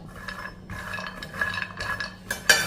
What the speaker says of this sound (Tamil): இதை ஒரு 2 நிமிஷத்துக்கு கடாயுடைய சூட்டில் மீடியத்தில் வச்சு வறுத்துக்கிடுவோம்